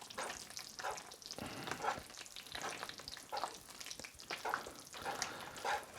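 Curry powder being stirred into a thick Chinese takeaway-style curry sauce in a pan, with quiet sizzling and repeated scraping strokes of the spoon in an uneven rhythm, close and soft.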